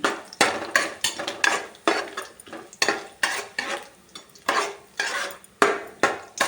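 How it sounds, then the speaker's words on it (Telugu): Ten cashews fry for upma in a pan, with repeated rhythmic scraping and stirring strokes of a utensil against the metal over a light sizzle, close and fairly loud, with no talking. "ఒక పది జీడిపప్పు వేయించుకుంటూ ఉన్నాము"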